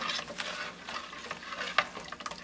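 Hot process soap mixture being stirred as flat beer is added in small amounts, giving soft scraping and swishing strokes in an irregular rhythm, close and fairly quiet, with no voices.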